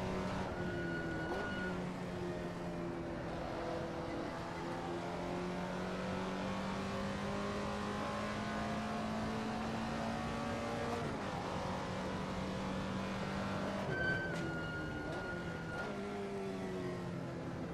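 A race car engine in Assetto Corsa at Laguna Seca drones loudly and steadily, its pitch climbing slowly through long pulls with a couple of abrupt shifts near the middle and end, alone without talk.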